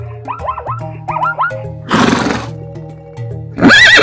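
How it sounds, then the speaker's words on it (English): Horse neighing loudly, several rising and falling whinnies in quick succession with a breathy snort burst in the middle, over a steady low background hum. "Horse."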